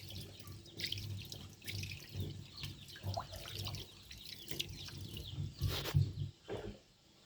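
Homemade coconut milk, made from grated coconut while preparing coconut oil, is strained by hand through cloth, giving soft irregular splashes, drips and trickles of liquid, close and fairly quiet.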